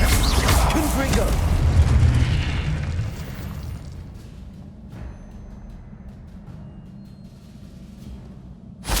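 A Confringo fire spell explodes in Hogwarts Legacy with a loud, deep boom at the start that rumbles and slowly fades into a low, steady ambient hum.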